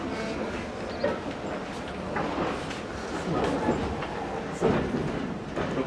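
A heritage branch-line train runs on the rails between Cholsey and Wallingford on a sunny day, a steady rumble with faint clacks and knocks, heard from inside the carriage under soft background talk.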